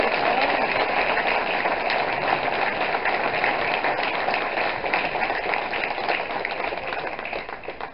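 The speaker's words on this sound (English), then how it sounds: "let's give him a big round of applause" A hall of fame induction audience gives a dense, steady round of applause, many hands clapping in a continuous wash that slowly fades toward the end, with no talk.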